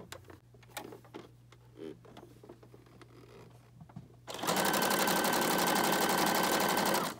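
A sewing machine runs a zigzag stitch to tack yarn down on a handmade junk journal booklet: quiet handling sounds at first, then the machine starts abruptly and hums with a loud, rapid, steady stitching rhythm until the end.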